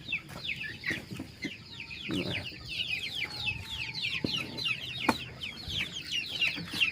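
Young chickens in a small brooder coop keep up busy, close peeping and clucking, with scattered rustling and soft knocks.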